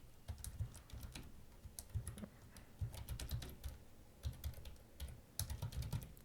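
Someone types quickly on a computer keyboard, close up, with dense clusters of key clicks broken by short pauses. It is recorded at a quiet level, with no talking over the keys.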